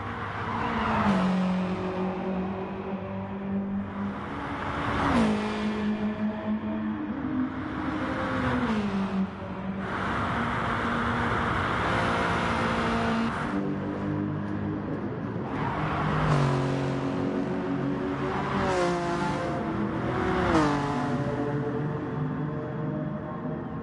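Corvette race cars lapping Willow Springs in Gran Turismo Sport, engines droning and rising and falling through gear shifts in repeated sweeps, steady and fairly loud with no talk over them.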